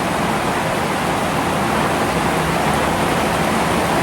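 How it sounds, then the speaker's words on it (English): Heavy rain drums on a tin roof as a dense, loud, unbroken hiss with no gaps and no voices. "I'm screaming over the rain on the tin roof"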